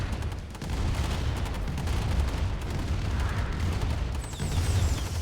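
Artillery pieces fire in a Heavy Metal real-time strategy video game match, producing a continuous stretch of rumbling booms and blasts that run into one another, fairly loud, with brief higher-pitched game effects near the end.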